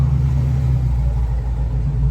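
A police chief's truck pulls up outside Hawkins Library, its engine giving a steady, close, low rumble with a slight throaty idle and no voices.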